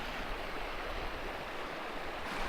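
A mountain creek below Cotopaxi volcano in Ecuador rushes steadily and close, a dense unbroken wash of flowing water with no voices.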